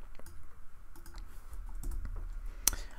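Someone types a short command on a computer keyboard, producing a quick run of soft, close key clicks and taps in a quiet room.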